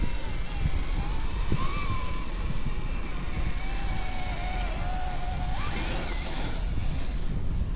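A Kyosho KC10 micro RC truck with a two-speed kit, driven in low gear, giving a steady whining motor hum that rises and falls in pitch as it crawls along close by.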